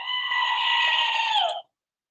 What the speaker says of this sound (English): Here's a screaming goat for you.